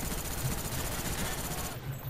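Rapid automatic gunfire from Call of Duty Black Ops on PC, a steady dense rattle of shots filling the whole stretch at fairly loud level, with no voices over it.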